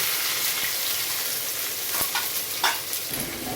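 Oil and ghee frying in a heated pot for biryani, a steady close sizzle with a few scraping stirs and clinks, no talk.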